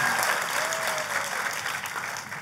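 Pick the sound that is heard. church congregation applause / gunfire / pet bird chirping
church congregation applause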